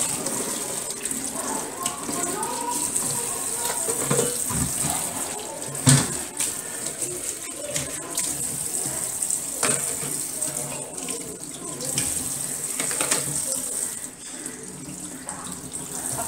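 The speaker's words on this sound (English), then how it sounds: "after you wash all the bubbles off." Tap water runs steadily over soapy washed items in a sink as suds are rinsed away, a continuous hissing splash with small clatters, close by and alone without talk.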